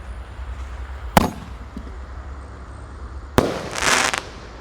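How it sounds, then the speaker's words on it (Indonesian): Two loud, sharp firecracker bangs a couple of seconds apart from jumbo Raja Wali firecrackers; the second is followed by a brief burst of crackling fireworks. "Kita lanjutkan menyalakan mercon Raja Wali Jumbo."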